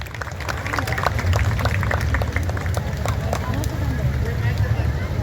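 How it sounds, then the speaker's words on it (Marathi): A crowd claps steadily to welcome Sunanda Pawar at a Home Minister programme during an agricultural festival in Lonand. The dense, sustained applause runs for several seconds beneath a speaker's amplified voice. "त्यांचं सर्वांनी एक जोरदार टाळ्या वाजून स्वागत करा"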